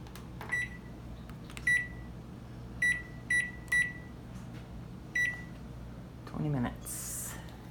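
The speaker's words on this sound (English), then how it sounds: "I'm going to set the timer." A kitchen timer is set during stovetop cooking, giving about seven short, sharp electronic beeps at irregular intervals as its buttons are pressed, and a brief voice is heard near the end.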